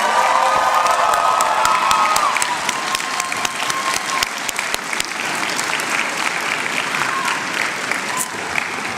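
Graduates at a 2019 commencement ceremony give sustained, dense crowd applause that fills the hall, with scattered cheers and whoops rising over the steady clapping, and a voice on the loudspeaker briefly audible at the start.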